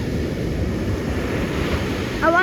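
Big ocean waves break at Aliso beach as a continuous roaring wash of surf with some wind rumble, steady and fairly loud, a faint voice-like tone rising near the end.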